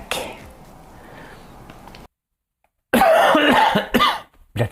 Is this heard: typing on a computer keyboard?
no